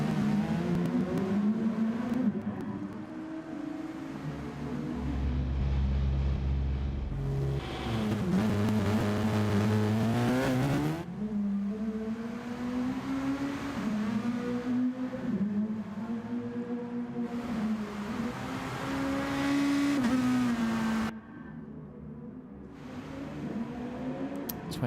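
Touring race cars lapping at the Styrian Sprint track, engines loud and close with rising and falling revs as cars pass and shift through gears continuously.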